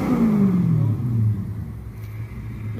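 An LSX-swapped Infiniti G35 drift car with a V8 engine rumbles loudly nearby, its revs falling in a smooth descending drone before settling into a steady idle burble.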